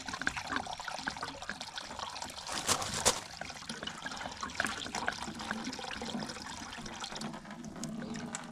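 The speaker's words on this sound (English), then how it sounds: "we're just going to drain her off a little bit" Vinegar rust treatment drains out of a fuel tank as a steady, close, continuous trickle and splash of liquid running for several seconds, with no talking.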